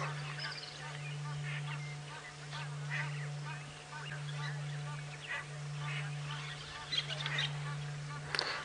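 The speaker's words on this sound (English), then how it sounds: "Some Egyptian geese around here looking for food." Egyptian geese honking around a safari drive at sunset, a scatter of harsh calls at middle distance over a steady low vehicle engine hum.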